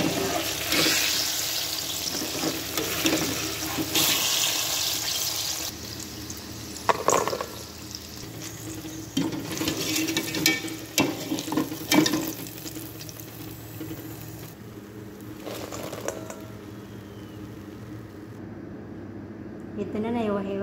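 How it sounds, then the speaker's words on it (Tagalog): Eggplant, carrots and potatoes fry together in one pan, giving an uneven sizzle with bursts of spattering. A person talks over much of it, and the frying quiets near the end. "piniprito ko na ang aking talong, carrots at patatas"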